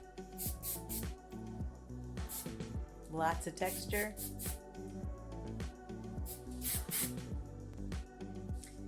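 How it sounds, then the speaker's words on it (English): Short hiss bursts of hair spray misted over short, waved hair, several quick sprays repeating through the clip beneath a voice and background music. "A little bit of spray."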